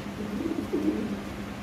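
Lahori pigeons coo softly, two low throaty coos close by over a faint background hum.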